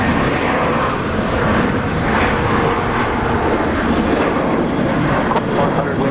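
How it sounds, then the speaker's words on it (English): A Jetstar airliner takes off from Brisbane International Airport, a loud, sustained jet roar rumbling close by throughout. "Jetstar Flight 759 off to Hobart."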